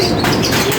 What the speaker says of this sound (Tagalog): napansin ko yung mga ibon